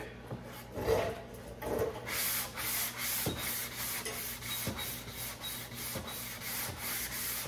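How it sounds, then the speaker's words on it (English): Steady rhythmic sanding strokes with a sanding block rub back and forth across a guide-coated surface, a continuous abrasive hiss pulsing with each pass, close and fairly loud. "we're just gonna stay at it and continue sanding"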